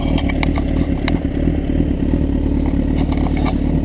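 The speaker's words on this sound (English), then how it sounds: "Alright, now the bike's back in neutral." A learner's motorcycle idles in neutral with a loud, close, steady low engine rumble and a fine mechanical clatter running through the whole stretch.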